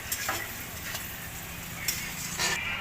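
Meat cooking in a pot in a cold-storage facility, a faint sizzle under occasional stirring scrapes and clinks, no talk.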